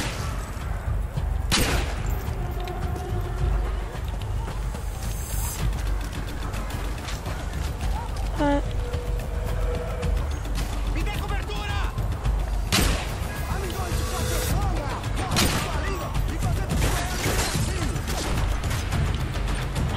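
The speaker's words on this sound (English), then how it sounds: "I like shooting them." Gunfire in Call of Duty: Modern Warfare spec ops as civilians are shot: sharp shots ring out at scattered moments over a constant low rumble and clatter of game ambience, with speech mixed into the dense bed.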